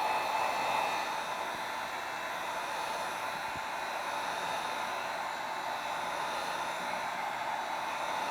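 A heat tool blows steadily over acrylic pour paint, giving a constant airy hiss and hum at moderate level that stays even throughout with no talking.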